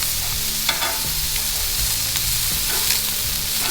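A ribeye steak sears on a hot Blackstone flat-top griddle, giving a dense, continuous sizzle with a low hum underneath and a few faint clicks of a spatula, heard close up with no talking.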